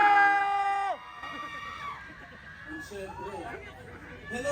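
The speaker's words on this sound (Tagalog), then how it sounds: "Kailangan mas malakas yung hiyaw nyo kaysa sa mic ko sige." A concert crowd at an amphitheater screams and cheers in high, sustained shrieks. The screaming then fades into a mix of chatter and scattered shouts, and a nearby voice talks over the noise.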